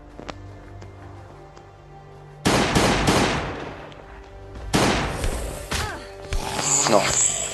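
Firearm shots ring out in the survival video game Last Day on Earth in sharp, loud bursts of rapid gunfire with short pauses between volleys, while a voice talks underneath.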